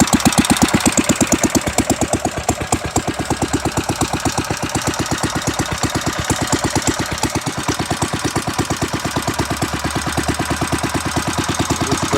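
A 1931 Bready Cultimotor antique garden tractor engine runs steadily, a loud, close, rapid chugging putter with even knocking pulses throughout and no voices.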